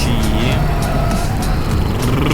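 A military car drives in the video game Teardown, its engine roaring continuously with tire squeals and revving, while bursts of game noise and occasional sharp impacts sound over it.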